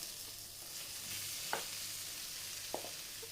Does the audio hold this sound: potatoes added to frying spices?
yes